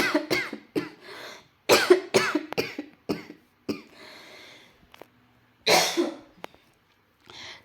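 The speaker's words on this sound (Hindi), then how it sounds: "मुझे खांसी आ रही है" A person suffering from a cough coughs repeatedly in a quiet room, about a dozen sharp close bursts in irregular clusters with short silent gaps between them.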